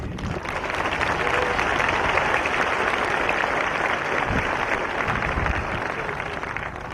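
Dense, sustained applause fills a large hall at Eastern Arizona College's 2014 commencement, a continuous wash of many hands clapping at once, loud and steady throughout with no speech over it.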